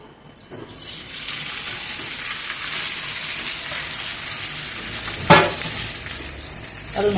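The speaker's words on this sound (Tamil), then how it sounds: "இதப்போ பேன் வச்சுருக்கேன் அதில் பொட்டேட்டோ ரோஸ்ட் பண்ணிக்கிறேன்" Potatoes roast in a hot pan with a continuous close sizzle that starts abruptly, with one brief louder scrape or clatter near the end and no talking.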